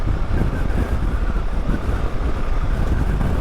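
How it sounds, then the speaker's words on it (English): Loud, blustery wind buffets the microphone in a continuous roar with gusty surges, close and dominant, no speech. "So the wind is pretty welcome right now."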